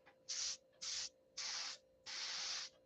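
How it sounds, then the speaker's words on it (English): A hot, unplugged clothes iron pressed onto a soaking wet paper towel hisses with steam in four sharp bursts, each about half a second long, the last one longer, close and alone against a quiet background. "this iron is unplugged now, but you can listen how hot it was."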